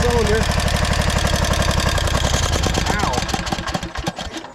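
A 1999 Craftsman lawn tractor engine runs rough on one cylinder, a loud, close, rapid uneven chugging that pulses steadily, then slows and stumbles toward the end, with a voice briefly heard at the start.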